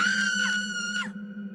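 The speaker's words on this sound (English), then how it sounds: "drowning out the screams of the children" Children screaming as an audio drama effect, loud sustained high-pitched shrieks with a couple of sliding falls, cutting off abruptly over a low steady hum.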